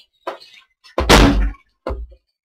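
Door in the Minecraft Tekkit modpack, opening and closing with three blocky thunks: a short knock, a louder sustained clunk in the middle, then a final shorter thud, each clean against silence.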